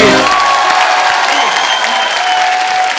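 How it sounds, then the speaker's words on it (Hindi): A TV comedy show studio audience breaking into loud, dense applause that fills the whole stretch evenly, close and continuous, with faint cheering mixed in and a brief voice at the start. "जोरदार तालियां हो जाए एक बार"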